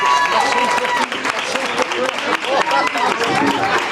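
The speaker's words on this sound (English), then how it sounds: "everyone, please give a huge round of applause for Neil, please" Wedding reception guests applaud during the speeches, dense continuous clapping from a crowd filling the room, with voices mixed in throughout.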